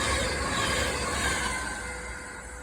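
Train 39119, a delayed London Euston to Glasgow Central service on the West Coast Main Line at Atherstone, rushes past with a steady broad roar of wheels and air that slowly fades toward the end.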